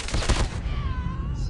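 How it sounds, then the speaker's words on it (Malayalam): Gunfire in the Call of Duty Mobile video game, a dense burst of rapid shots in the first half second, followed by softer game effects and a faint rising tone. "ഇവര് വെടിവെക്കുമ്പോ എന്താണ് തീ വരുന്നേ?"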